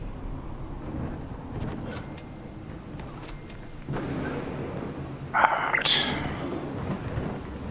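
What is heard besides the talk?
rain and thunder in Fallout 4 video game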